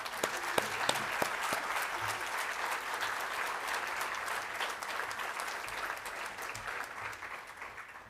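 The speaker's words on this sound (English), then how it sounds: "I think all those learners and schools who received awards deserve another round of applause" Sustained audience applause at an education awards ceremony honouring learners and schools, a steady wash of many hands clapping that fades slightly toward the end.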